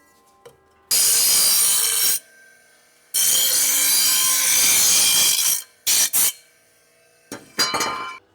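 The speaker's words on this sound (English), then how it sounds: "let me grind that smooth" An angle grinder smooths a weld under a 1972 Suburban truck in loud, harsh bursts, two long runs and a few short stabs, separated by near silence.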